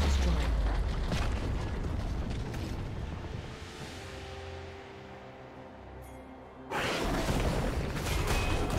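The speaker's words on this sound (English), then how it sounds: "Team's turret has been destroyed." Turret destroyed in League of Legends, a heavy rumbling explosion with creaking, crumbling debris that slowly fades, then the loud game mix returns abruptly.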